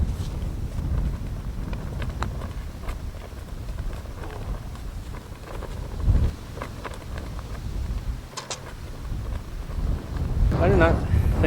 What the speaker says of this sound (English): So you probably can't even hear me over this wind.